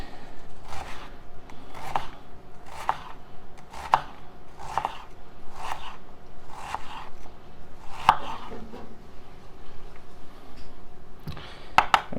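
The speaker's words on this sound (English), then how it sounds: "we are going to dice up all of the onion and the peppers" Steady, rhythmic chopping as a knife dices onion and peppers on a cutting board, with close, crisp knocks roughly every second and a quick double tap near the end, without any voices.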